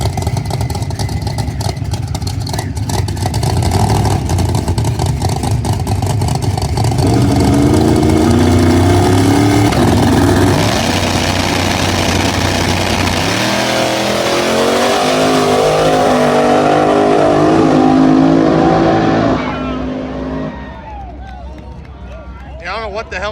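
A small tire no prep drag race car roars off the line and accelerates hard down the track, a loud sustained engine wail that climbs through gear changes, then fades away into the distance, with crowd and voices under it.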